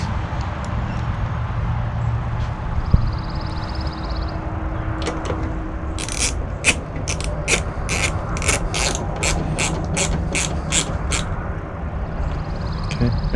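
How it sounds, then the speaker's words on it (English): A ratchet tightens screws into the plastic of a 2013-2018 RAM 2500 tail light, with a rapid series of about a dozen sharp clicks in the middle, up close over steady background noise. "install our screws."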